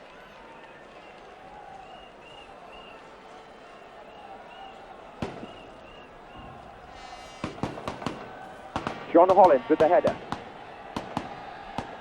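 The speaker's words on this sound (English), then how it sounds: "Firecrackers in the background from the Spanish supporters" Firecrackers set off by Spanish supporters in a football stadium during the 1980 Cup Winners' Cup final between Valencia and Arsenal: sharp irregular bangs, clustering into a rapid burst midway, over crowd noise and a commentator's voice.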